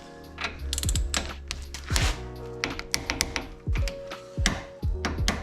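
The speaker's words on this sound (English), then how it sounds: "When you go and torque this down," Torque wrench tightening steering knuckle bolts on a 2013 Subaru STI, giving a series of close mechanical clicks and ratcheting taps with metallic knocks in an irregular rhythm.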